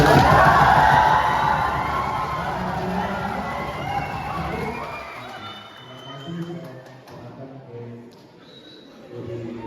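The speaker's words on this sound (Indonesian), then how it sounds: "tepuk tangan dulu" Student audience at a high school student council candidate debate in Merauke, Papua, erupts in loud cheering, shouts and whoops, then fades over several seconds as talking voices take over.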